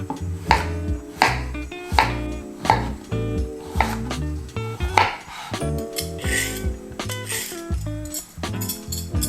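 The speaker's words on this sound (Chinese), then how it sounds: "把它削皮之后，我们就切成厚片状" A knife cuts through peeled daikon radish into thick rounds on a board, giving a series of solid, close thuds at a fairly regular pace with some scraping between cuts.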